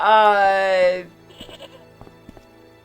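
A goat in the Broken Sword video game gives one loud, wavering bleat lasting about a second, followed by quiet clicks and soft background tones.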